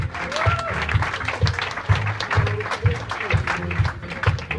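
An audience applauds two presenters at a student awards ceremony, steady dense clapping filling the room with a low rhythmic thump and voices underneath.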